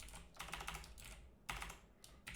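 Quick bursts of keystrokes clatter on a computer keyboard while coding, close and quiet, in three or four short runs separated by brief pauses.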